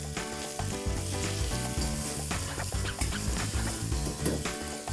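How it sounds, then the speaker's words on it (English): Diced carrots and baby corn are stirred into vegetable rice in a hot pan, giving a steady, close sizzle broken by scraping clinks of the spoon. No one speaks. "So a cup of diced carrots, a cup of baby corn. Just let's mix this well."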